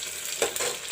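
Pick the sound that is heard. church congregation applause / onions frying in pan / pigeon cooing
onions frying in pan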